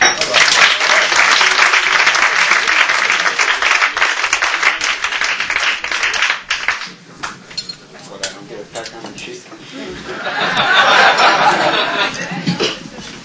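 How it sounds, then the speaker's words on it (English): Loud comedy-club audience applause with some chuckles, fading midway and then swelling again into a second burst of clapping. "Big round of applause for Dan Perlman."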